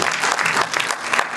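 An audience at a book launch gives a brief burst of dense, loud applause, many hands clapping together close by.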